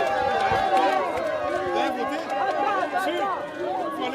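A crowd outside a primary school polling station in Cotonou, Benin, cheers and chatters loudly as the presidential couple arrives during the 2023 legislative elections, a dense close roar of excited voices and shouts.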